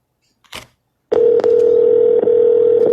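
A steady phone dial tone from a cold-calling dialer starts abruptly after a brief faint click, sounding loud and continuous with a couple of small clicks over it and no talk.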